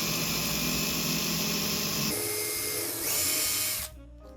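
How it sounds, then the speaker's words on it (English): A power drill bores holes straight through cork roadbed and plywood beside a model railway rail, a steady loud whine that shifts pitch partway through and cuts off near the end. "drill a couple of holes alongside the rail, as close as we can get to the base of the rail without actually touching the rail"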